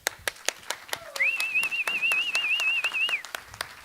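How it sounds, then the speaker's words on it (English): A conference audience at an international cross innovation event clapping, with sparse, evenly spaced claps close by and a long wavering whistle riding over them, while voices murmur underneath. "An applause."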